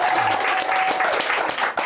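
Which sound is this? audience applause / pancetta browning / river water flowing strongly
audience applause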